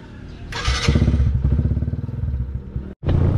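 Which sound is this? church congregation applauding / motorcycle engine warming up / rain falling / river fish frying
motorcycle engine warming up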